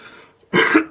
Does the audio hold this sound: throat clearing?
yes